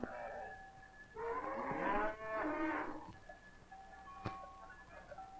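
Cattle moo at a Norwegian mountain summer pasture, two long drawn-out calls in a row, fairly close and clear over a quiet outdoor background with a faint steady tone.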